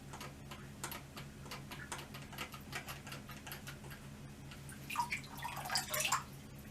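Water draining through a 3D-printed bilge pump check valve, a rapid series of faint ticking drips and trickles that thicken into a brief splashy gurgle near the end, close and quiet with no one talking.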